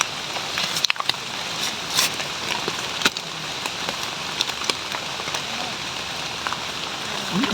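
Steady rain falls outdoors during a trek through the forest near home, a continuous dense hiss with scattered sharper drops and taps throughout, and faint voices now and then.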